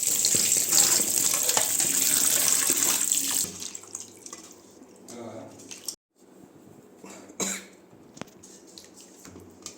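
Running tap water splashes steadily over chicken leg pieces dusted with turmeric being washed in a sink, loud and continuous for a few seconds, then quieter with intermittent splashes and handling noises.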